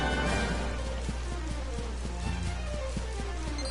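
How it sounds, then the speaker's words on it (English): Steady game rain hisses without a break in Dragon Quest XI S, a dense wash of falling drops under light hoof-like clopping and faint musical tones. "It's only raining over here"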